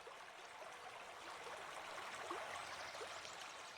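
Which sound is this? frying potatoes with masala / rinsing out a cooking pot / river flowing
river flowing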